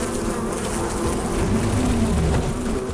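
A dense swarm of bees drones steadily in the game Far Cry Primal, a continuous loud buzzing hum that fills the whole stretch without letup.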